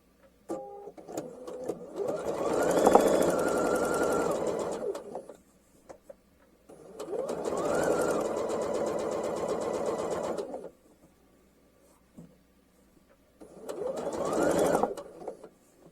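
A sewing machine running a straight stitch at 2.5 mm stitch length in three separate bursts of steady whirring and rapid needle clatter, each a few seconds long, split by short pauses.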